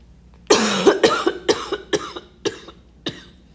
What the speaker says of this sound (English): So sorry, pardon my coughing.